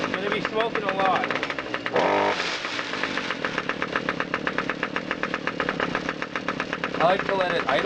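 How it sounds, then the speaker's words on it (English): A small engine, treated with Seafoam, idles with a rapid, uneven putter that runs steadily throughout, close and moderately loud, with someone talking over it. "I like to let it idle for a little bit so that the Seafoam is actually still in the engine"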